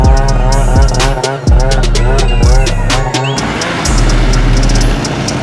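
Arctic Cat M8000 snowmobile engine idling and revving loudly inside a shop, a steady close drone with several sharp throttle blips and rising surges.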